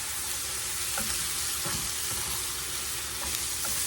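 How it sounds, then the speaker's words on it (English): Diced Rotel tomatoes with their juice being stirred into a beef and biscuit casserole, a steady wet sizzling hiss with a few soft scraping strokes, close and continuous with no talking. "We're going to stir this up."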